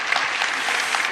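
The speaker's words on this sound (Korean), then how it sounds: "박수 한번 하시고요" A congregation claps during a church service, a dense, even burst of many hands applauding together, loud and brief.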